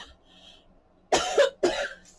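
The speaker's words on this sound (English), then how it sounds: "pardon me, I have to cough." Two harsh coughs close to the microphone, one right after the other, following a quiet moment.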